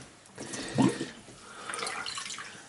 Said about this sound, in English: So you just rinse it off.